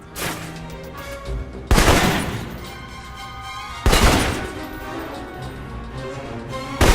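Assault rifle bursts in the video game Alpha Protocol, two loud broadband blasts of gunfire separated by a couple of seconds, with a further shot at the end over a steady mechanical game background.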